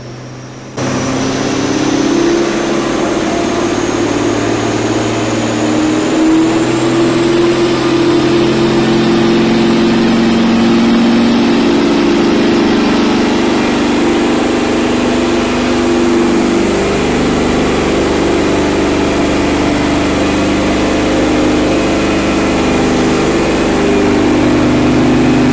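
A 1998 Ford Mustang GT engine hums steadily on dyno rollers as it warms up, a loud constant drone with slight pitch shifts through gear changes and a high whine from the rollers above it.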